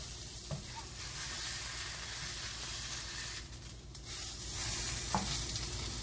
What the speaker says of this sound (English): I'm going to flip them. Now flipping. Yes, the tongs work very well for flipping.